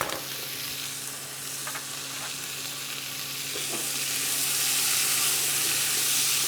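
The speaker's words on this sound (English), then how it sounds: "You can hear that the pan's still really, really nice and hot." Steady hissing sizzle of onions frying in a hot pan, growing a little louder toward the end, with a few faint stirring clicks.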